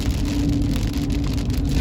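Steady rain hisses on a moving car while driving along the Alabama Gulf Coast. The wash is dense and continuous over a low road rumble, with no talking.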